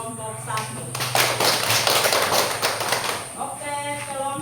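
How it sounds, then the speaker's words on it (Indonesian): Classroom applause for a student group, a dense burst of clapping from many hands lasting a couple of seconds, preceded and followed by a teacher's voice. "Oke, tepuk tangan untuk kelompok 1."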